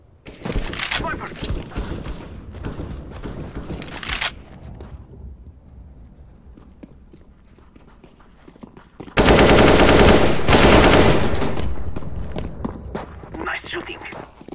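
Video game gunfire in loud bursts of rapid automatic shots, one dense stretch early and another heavy burst later, with footsteps and quieter action between and voices heard in places.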